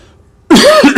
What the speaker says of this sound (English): Excuse me, sorry about the coughing.